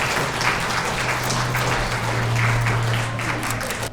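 Wedding guests applauding the bride and groom's bow at a convention hall ceremony, steady dense clapping throughout over a low background hum.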